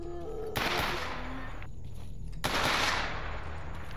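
Bursts of rapid automatic gunfire in a zombie shooter video game, two sustained volleys close and loud, separated by a short pause.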